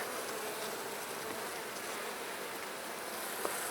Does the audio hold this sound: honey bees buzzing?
yes